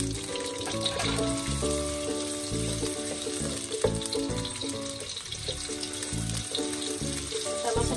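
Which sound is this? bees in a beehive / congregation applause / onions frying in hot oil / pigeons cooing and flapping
onions frying in hot oil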